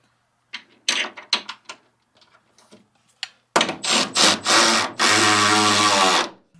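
Power tool on a Datsun 280z with a 2JZ swap tightening front suspension bolts: short buzzing bursts of an impact driver, then longer whirring runs ending in a sustained tightening whine, close and loud.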